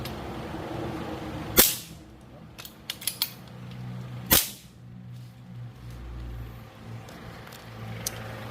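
Two sharp, loud blasts from a pump airgun converted to CO2 power, each a sudden crack with a brief tail, separated by a few seconds of quieter handling clicks.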